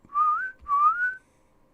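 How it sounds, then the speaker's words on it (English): Two clear rising whistles from a song, each about half a second long and sliding upward in pitch, heard close and alone with silence after. "I like the little whistles"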